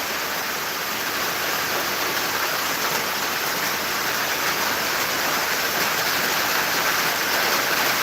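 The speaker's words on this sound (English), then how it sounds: "Can y'all hear the rain?" Rain falls steadily in the Philippines, a loud, dense, continuous hiss that holds even from start to finish with no voices.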